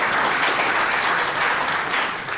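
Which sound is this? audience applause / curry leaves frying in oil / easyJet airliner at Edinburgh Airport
audience applause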